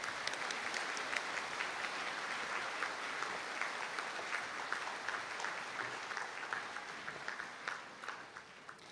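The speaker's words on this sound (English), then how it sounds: "Round of applause, please, for our graduates." Steady applause from a ceremony audience fills a hall as graduates are honoured at an ATU conferring ceremony in Donegal, dense and continuous for about nine seconds before tapering slightly at the end.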